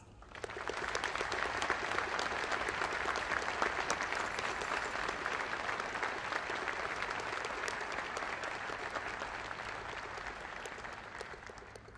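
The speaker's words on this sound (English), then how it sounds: "please join me in recognizing our veterans' national leadership with your applause" Audience at a Veterans Day ceremony at the Tomb of the Unknown Soldier applauding veterans' national leadership, sustained crowd clapping that rises quickly and holds steady for about twelve seconds before tapering.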